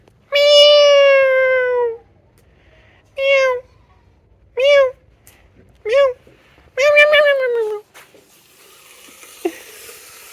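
A domestic cat gives a series of loud, close meows: two long drawn-out cries and several shorter ones, separated by brief quiet gaps, with no other sound.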